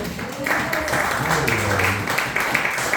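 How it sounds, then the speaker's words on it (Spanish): A congregation applauds during a church sermon by a pastor, steady crowd clapping mixed with voices and some tonal sound underneath. "Den un fuerte aplauso a Jesucristo."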